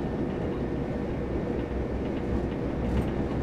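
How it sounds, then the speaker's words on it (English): A Class 375/377 electric multiple unit in Train Simulator 2020 runs at speed with a loud, steady low rumble and roar, continuous and unbroken throughout. "Run sounds are not bad, except you get reminded of this train at speed"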